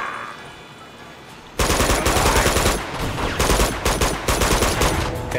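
Gunfire in Uncharted 2 aimed at a shotgun-wielding enemy: after a quiet stretch, a sudden loud burst of rapid automatic shots, continuing in dense volleys with brief gaps, close and sharp.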